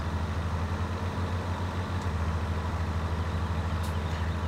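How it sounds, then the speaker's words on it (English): A high-powered V8 engine in Farming Simulator 2017 rumbles steadily in the open, a deep throbbing idle that holds at one level throughout. "that sounds like a high-powered V8"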